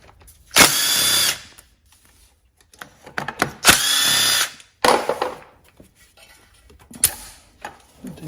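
Close, loud bursts of a power tool loosening bolts on a 1979 Honda XL500S motorcycle during clutch work: two long whirring runs of about a second each, plus shorter bursts and ratcheting clicks between them.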